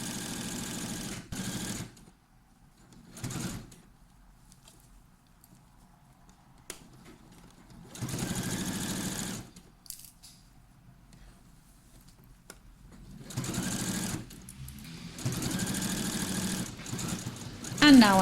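A sewing machine stitches a hem on a girls' cardigan hoodie in several loud, buzzing bursts of a few seconds each, with quieter gaps between them where a person talks.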